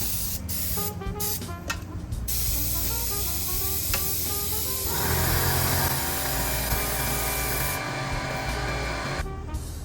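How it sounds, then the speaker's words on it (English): A compressed-air machine hisses loudly and continuously while inflating the tire of a Segway miniLITE, with the tone shifting partway through and some mechanical clatter in the background. "it says the next step would be to fill it up with air"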